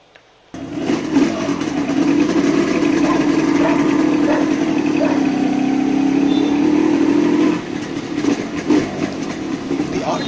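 A 1980s Yamaha RD350 motorcycle's two-stroke engine starts with a quick catch, then settles into a loud, steady, close idle, with the revs dipping slightly near the end.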